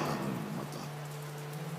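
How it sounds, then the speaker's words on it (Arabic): Steady rain pours as an even broadband hiss, accompanied by a constant low hum throughout, with no voices. "مطر مطر"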